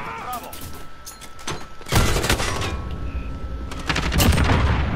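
Gunfire in Modern Warfare multiplayer, loud bursts of shots that start sharply about halfway through and continue in rapid clusters, with scattered game sounds before them.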